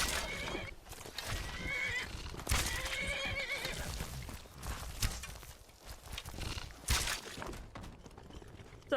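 Repeated loud horse whinnies from Shadowmere in Skyrim ring out over clopping hooves, several calls spread across the stretch with busy movement sounds between them.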